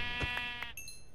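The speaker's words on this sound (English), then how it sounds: "Oh! Sheep!" Sheep bleating in the video game Minecraft, a few short, close bleats in quick succession followed by a higher tone.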